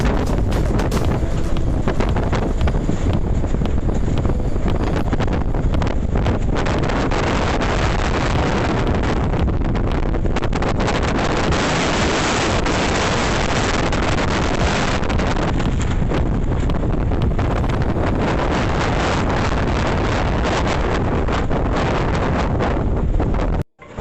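Hurricane Elsa's wind roars steadily and loudly across a microphone on a moored boat, buffeting without pause for the whole stretch, with gusts surging and easing in dense broadband rumble and hiss.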